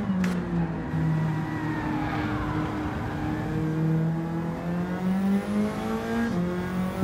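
A Nissan Silvia race car engine in Gran Turismo 7 hums close and steady, its pitch rising and falling through gear changes, with a tonal whine over the drone and no talking.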